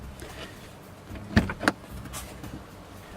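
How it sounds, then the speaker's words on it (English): A door on a 2018 Lada Vesta CNG being opened: two quick, sharp mechanical clicks close together, the latch releasing, fairly near, with no talk. "Let's open the door."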